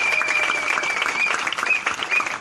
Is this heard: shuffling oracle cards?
no